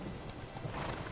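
A horse galloping in The Witcher 3 video game, with a quiet, steady patter of hoofbeats under faint background noise and no voices.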